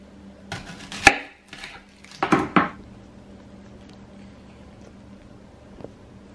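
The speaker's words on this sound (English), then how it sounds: "And I'll just cut these up in little bits." A knife chops habanero peppers into little bits on a board, with a few sharp, close cuts early on, a quick cluster of chops, then a quiet stretch and one faint final tap.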